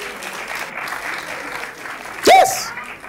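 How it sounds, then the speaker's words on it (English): Comedy show audience applauding a live comedian, a soft patter of clapping under the performer's talk, rising into a brief louder burst of clapping and cheering near the end. "If you don't clap, clap, please"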